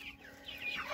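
Soft clucking from a single young hen outdoors on a first walk, a few faint rising chirpy calls over a quiet background that grow a little louder toward the end.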